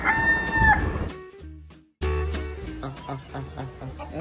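A rooster crows loudly and close among hens in a family flock in Pakistan, followed by a break and then a run of rapid, rhythmic clucking from the birds.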